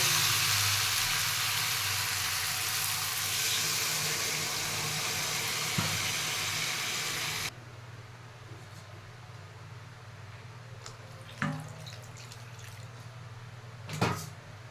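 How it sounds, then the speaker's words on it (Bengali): Water poured into a sizzling curry in a pan, loud steady hiss that drops abruptly halfway, leaving a quieter bubbling simmer with a couple of faint knocks. "কষানো হয়ে গেছে, এখন দিয়ে দেবো জল।"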